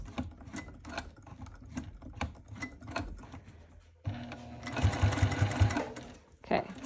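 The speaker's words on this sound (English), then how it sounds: "I might just hand crank this." Sewing machine stitching through a bulky section of a clutch wallet, first in slow, separate hand-cranked stitches, then a quicker burst of motor-driven stitching, with a person speaking between the runs.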